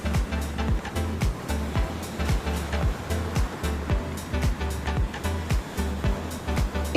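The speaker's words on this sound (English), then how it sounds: "The tunnel whispers with the sound of the waves, each step echoing the rhythm of the ocean beyond." Ocean surf at Lands End carries through a coastal walking tunnel as a steady, full roar with a constant wash of water and no voices.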